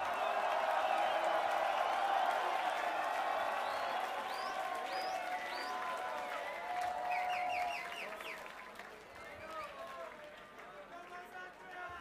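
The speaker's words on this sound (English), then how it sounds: "one more round of applause" A crowd at the Grand Beatbox Battle 2019 solo final in Poland applauds and cheers. The noise is loud, dense and sustained, eases after about eight seconds, and mixed crowd voices carry through it.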